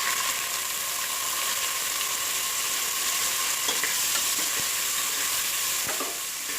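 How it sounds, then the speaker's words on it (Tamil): Small shallots fry in hot oil with fenugreek and spices for Ramadan nonbu kanji, giving a dense, even sizzle with occasional light spoon scrapes against the pan. "இப்போ சின்ன வெங்காயத்தை போட்டுக்கலாம்."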